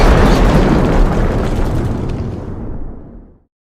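A single loud explosion effect in a toy train story set in a harbor, a dense roaring blast that fades out over about three seconds into silence.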